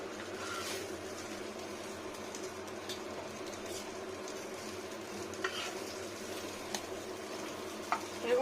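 Fried eggplant slices crackle and sizzle in a tawa frying pan with oil as they are lifted out, a steady close sizzle with a few sharp clicks of utensil on the pan near the end.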